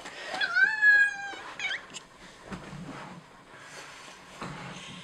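A 2.5-year-old Persian cat gives a drawn-out, rising meow near the start, followed by quieter rustling and handling sounds.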